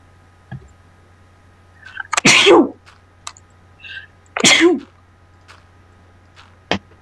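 Two loud, close sneezes a couple of seconds apart break an otherwise quiet stretch, with a few faint clicks between them.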